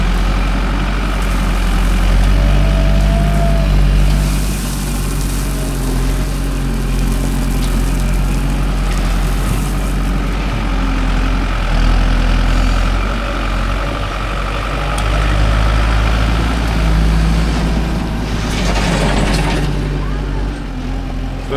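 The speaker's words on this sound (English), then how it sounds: "Man, skid steers are handy." A skid steer loader's engine runs steadily with a low droning rumble throughout, out in the woods while a camper is being hauled out, with someone talking intermittently over it.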